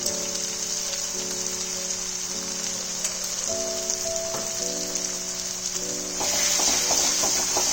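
Cumin and coriander powder fry in oil with other spices in a pan, giving a steady close sizzle throughout with faint stirring scrapes and a louder burst of hiss near the end, under a constant background tone.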